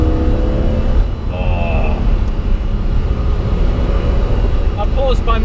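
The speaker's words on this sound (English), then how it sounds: "Just listen to the engine." A BMW M1 with its race-derived engine and dogleg gearbox drones low and steady in a broad rumble, heard from inside the car with some cabin noise throughout.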